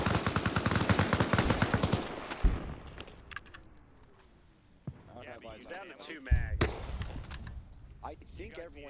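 Rapid automatic gunfire in the ARMA Reforger war game bursts loudly, then gives way to scattered single shots and echoing reports, with players talking over the action.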